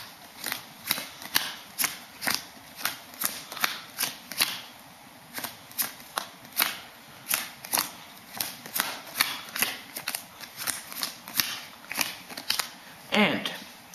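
Playing cards are dealt one at a time onto piles on a table, making a steady, evenly paced run of crisp, close slaps and flicks that continues throughout.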